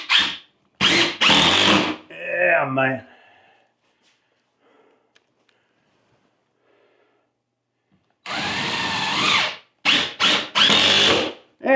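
A power drill drives a screw into a metal loft ceiling without a pre-drilled hole, whirring in short, loud bursts, stopping and starting, with a long quiet stretch between and a brief spoken remark.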